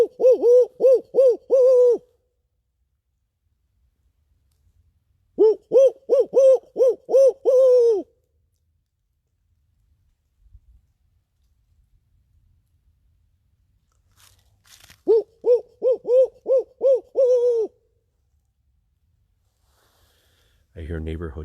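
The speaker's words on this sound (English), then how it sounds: "try the barred owl." Rhythmic barred owl hooting in three separate bursts of rapid, even calls, loud and clear, with long quiet gaps between them.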